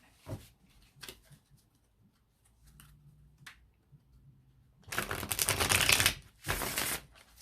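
A tarot deck is shuffled close by. A few soft card taps and riffles come first, then a dense, louder burst of flapping, riffling cards, a short pause, and another quick riffle, with no talk.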